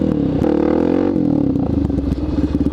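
A motorcycle engine revs hard and drones loudly up close as the rider pulls a small wheelie, its pitch rising and then settling with a rough, pulsing note.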